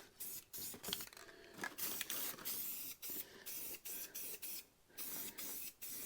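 A spray paint rattle can hisses in repeated short bursts, close up, as chrome grille bars on a 1940 Mercury are blacked out, with brief pauses between each spray.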